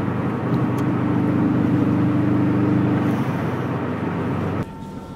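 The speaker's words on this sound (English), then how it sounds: "Here are the engines starting up now." Aircraft engines starting up as a plane prepares to depart, a loud, steady mechanical hum and rumble droning evenly before dropping off abruptly near the end.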